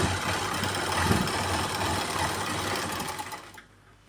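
A sewing machine stitching the side seam of a trouser cuff, a fast, even, buzzing run of needle strokes heard up close that continues steadily, then stops abruptly near the end.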